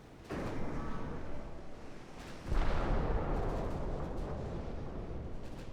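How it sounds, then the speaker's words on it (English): Naval gunfire and explosions boom in a strategy war game, with a cruiser fight against the Royal Navy as the setting. A dense, rumbling barrage builds to a heavier blast, then keeps roaring steadily. "I think we blew up the 2-inch guns."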